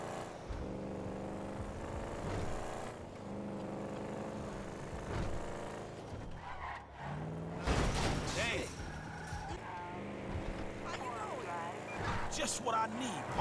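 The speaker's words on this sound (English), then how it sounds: "This is me just driving around town, causing chaos, and getting 60 frames per second." A car tears around town in GTA 5, its engine humming and revving with whooshes and crash-like bursts of chaos, while a person talks over the game sound throughout.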